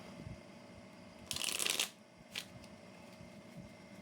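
A quick riffle of tarot cards being shuffled, one short burst followed by a faint card snap, close by in a quiet room.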